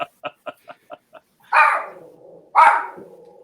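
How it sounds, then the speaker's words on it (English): A dog barks: a quick run of six small, evenly spaced yips, then two louder, fuller barks about a second apart, close by with no other sound. "The dog likes it"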